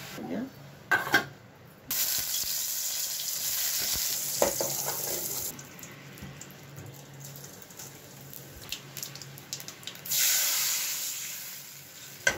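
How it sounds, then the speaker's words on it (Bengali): Pointed gourd sizzles in oil with a steady hiss, broken by stirring clatter and short gaps; the frying noise swells again toward the end. "আলু ভাজা, পটল কেটেছি, পটল ভাজবো"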